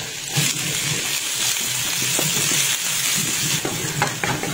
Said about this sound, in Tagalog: Tapos simulan na nating magisa ng bawang at sibuyas.